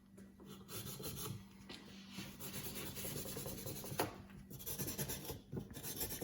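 A medium Scotch-Brite pad rubs steadily across a Yamaha VMax 1200 motorcycle brake caliper, giving a continuous close scratchy rasp with slight rhythmic strokes and no talking.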